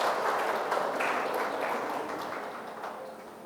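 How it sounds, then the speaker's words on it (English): Applause from an audience at a postgraduate orientation session, honoring a senior doctor: a steady wash of clapping from the start that gradually thins and fades over a few seconds. "please give a round of applause for sir"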